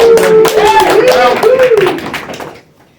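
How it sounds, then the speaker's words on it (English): An audience claps for a comedian at a comedy show: a dense burst of applause that fades over a few seconds, with a voice talking over it. "Give him a round of applause."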